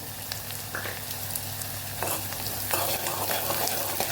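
Onion frying with curry leaves and green chillies in a pan, a continuous dense sizzle with intermittent stirring scrapes, close and fairly loud, with no one speaking.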